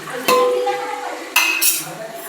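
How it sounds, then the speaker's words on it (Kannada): Two chopped onions tipped into hot oil in a pan, giving sharp metallic clinks and scrapes of a utensil against the pan, two distinct clattering hits over a soft background sizzle. "ಇವಾಗ 2 ಈರುಳ್ಳಿ ಕಟ್ ಮಾಡ್ಕೊಂಡು ಹಾಕೋಣ ಎಣ್ಣೆಗೆ"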